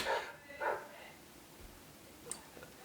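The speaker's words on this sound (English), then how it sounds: "It's not a Mark's beer reviews video if she isn't barking." A dog barks twice in quick succession, faint and somewhat distant in a quiet indoor room, followed by a brief sharp yip.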